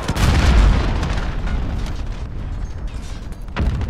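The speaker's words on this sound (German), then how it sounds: "Hier sind, glaube ich, jetzt 6 Lenkgranaten explodiert" Guided grenades detonate in Call of Duty Modern Warfare, a loud, dense run of booming explosions that roll together and slowly fade, with a fresh blast near the end.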